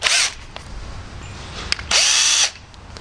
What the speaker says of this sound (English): it'll work fine in the cordless drill